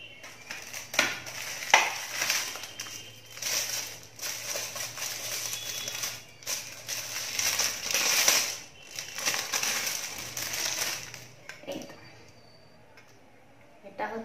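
A gift set holding a long plate, two bowls and a spoon is unwrapped, with packaging crinkling and rustling in uneven waves and occasional light clinks. A voice talks quietly underneath.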